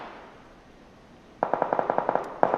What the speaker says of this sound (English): There's 2 shots.